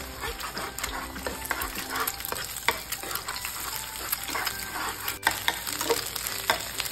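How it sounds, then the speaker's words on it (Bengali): Two eggs fry in a couple of spoons of oil in a frying pan, a busy crackling sizzle punctuated by scraping and tapping stirs from a spatula, steady and close throughout. "ডিমটাকে খুব ভালোভাবে ভেজে নিয়েছি"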